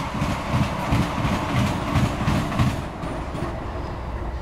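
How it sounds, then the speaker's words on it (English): A light rail train rolls past a rail yard, a loud continuous rumble with rhythmic clickety-clack of wheels over rail joints, easing slightly toward the end. "And here comes the light rail train."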